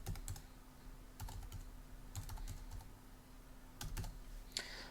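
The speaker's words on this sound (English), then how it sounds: "I'll type in mine now." Keys clicking on a computer keyboard while an FTP address is typed in on a Linux Mint desktop, short bursts of keystrokes with pauses between them, close and fairly quiet, with no talk.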